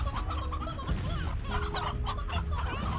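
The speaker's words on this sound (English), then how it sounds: "It's an elder hen." An elder hen in the video game Slime Rancher clucks in short, repeated bursts with chicken-like warbles, fairly close and clear against a low background.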